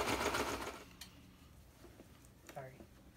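Domestic sewing machine stitching a log cabin style quilt, running in a fast steady whir for under a second at the start, then stopping, followed by quiet handling noises and a brief voice.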